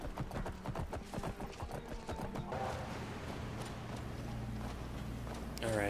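Horse hooves in the Skyrim game (Wildlander mod) as a horse is ridden: quick rhythmic clip-clop footfalls, close and clear at first, then fading under a low steady hum.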